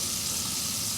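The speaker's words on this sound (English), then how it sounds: "And this stuff is sizzling way too" Pancetta or guanciale sizzles lively in oil in a pan while cooking pasta alla gricia, a steady close hiss and crackle with no pauses.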